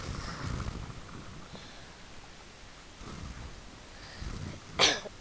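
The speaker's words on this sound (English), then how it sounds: "Oh, this cough, man." Several rough coughs and throat-clearing sounds come at uneven intervals over Fortnite gameplay, the last one loudest and nearest.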